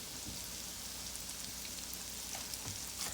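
Chicken pieces coated in a cornstarch and baking powder batter shallow frying in a thin layer of oil, giving a steady, even sizzle and crackle throughout with no one speaking.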